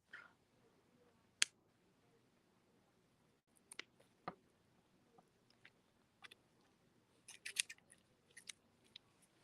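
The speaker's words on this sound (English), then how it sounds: "with my scissors, I'm going to clip" Scissors snipping the tip of crochet yarn, a string of sharp close clicks and snips scattered irregularly across a quiet room, busiest toward the end.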